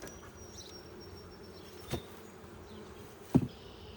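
Honeybees in an opened hive that has just been smoked give off a low, steady buzzing background, broken by a couple of brief knocks or clicks from handling.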